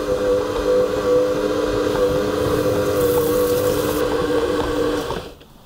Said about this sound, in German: Küchenmaschine starten und alles schön durchmischen.